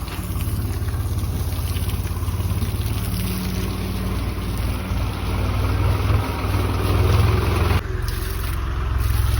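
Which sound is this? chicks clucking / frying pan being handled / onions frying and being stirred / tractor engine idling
tractor engine idling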